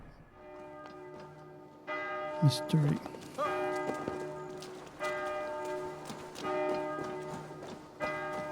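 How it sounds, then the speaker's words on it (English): Church bells in the video game Assassin's Creed Valhalla, set in Wincestre, ringing in a sustained resonant chime that swells and repeats, while a person talks briefly over the top. "those bells are driving me nuts"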